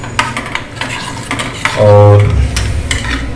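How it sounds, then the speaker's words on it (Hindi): A spoon stirs Joshanda herbal decoction in a pot, making close, loud metallic scrapes and clinks against the pot's sides in a few quick strokes, with a brief hum underneath. "ये एक चम्मच की सहायता से आप चलाइए"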